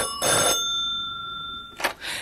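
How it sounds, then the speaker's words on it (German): A telephone bell rings in two bursts, loud and close, with a steady tone lingering between the rings. "als plötzlich das Telefon schrillte"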